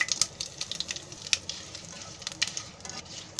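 Cumin, curry leaves and asafoetida roast in hot oil, crackling and spitting with sharp pops over a soft sizzle, close and fairly quiet, without talk.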